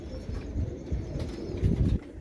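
Pigeons cooing and fluttering close by during rain, a low burbling murmur with a few bursts of wing flaps, steady throughout.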